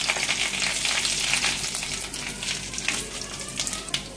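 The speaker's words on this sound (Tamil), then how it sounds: "அடுத்ததாக இதில் வந்து காஞ்ச மிளகாய் 4 வந்து காஞ்ச மிளகாய் போட்டுக்கலாம்" Dried red chillies frying in hot oil, a dense close crackling sizzle that starts loud and eases slightly, with scattered sharper pops near the end; no one talks.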